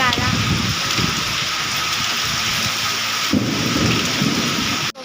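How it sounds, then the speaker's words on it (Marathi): Hailstones pelt down during a thunderstorm, a steady loud roar of falling ice and rain with rumbling thunder underneath, and a voice speaking over it. "हे बघा बर्फ पडतोय"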